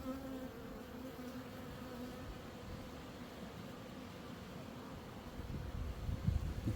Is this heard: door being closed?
no